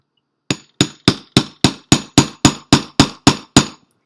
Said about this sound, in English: I'm going to try to use a punch a little bit more just to get a more secure